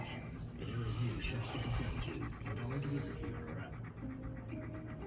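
Puppies pant softly and steadily close by, with faint scratching and a busy, murmuring background.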